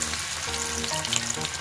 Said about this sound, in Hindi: अब इन्हें डीप फ्राई करते हैं। तेल गरम हो चुका है,